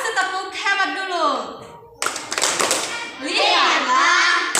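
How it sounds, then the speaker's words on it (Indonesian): Children in a classroom do a cheer clap together, chanting in unison with bursts of hand claps mixed into their voices, close and lively. "Kasih tepuk hebat dulu."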